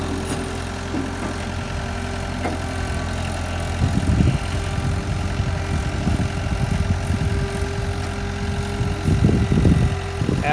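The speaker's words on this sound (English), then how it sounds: "you have a tractor start like that." An old Caterpillar D2 tractor's diesel engine runs at a steady idle, a low throbbing rumble with occasional surges in loudness and no talk.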